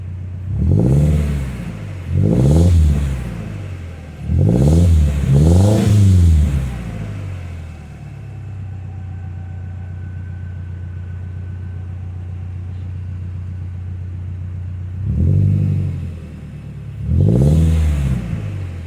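A 2017 Subaru Crosstrek fitted with a 5-inch axleback exhaust revs five times in quick bursts, settles into a steady low idle, then revs twice more, loud and close with no talking.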